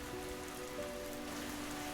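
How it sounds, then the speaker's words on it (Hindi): Rain falls steadily in a continuous soft patter on surfaces, faint and even, with a few thin tonal hums underneath and no voices. "दोनों बारिश में निकल पड़े।"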